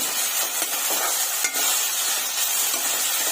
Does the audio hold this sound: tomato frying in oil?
yes